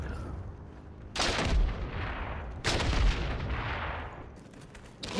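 Heavy gunfire in a World War II-style shooter game against German soldiers, loud booming bursts that land in a few heavy volleys, each fading into rumbling echo.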